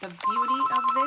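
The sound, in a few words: phone ringing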